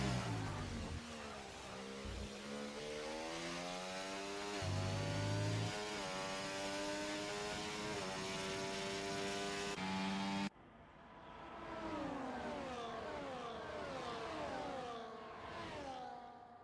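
F1 cars in the F1 24 video game race around the Bahrain circuit with loud, continuous high-revving engine whine and shifting pitch. The sound cuts abruptly partway through, then a car passes and recedes.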